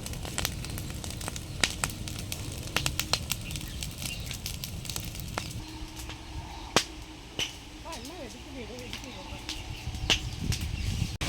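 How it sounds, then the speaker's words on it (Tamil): Wood fire burning fiercely under a clay cooking pot outdoors, a steady crackling hiss with sharp pops and snaps throughout, close and moderately loud, with a voice speaking over it in the second half. "நல்லா பயங்கரமா எரியுதுங்க"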